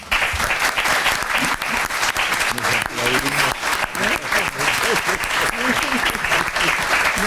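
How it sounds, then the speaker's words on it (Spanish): Warm audience applause at an academic forum on trade treaties and the global financial crisis: loud, sustained clapping from a large room, with some voices mixed in, continuing for about seven seconds. "abrazo que se exprese en un muy caluroso aplauso."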